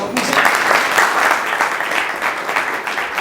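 An audience claps steadily before a stage play begins, a dense, continuous round of applause from a room full of people, loud and sustained.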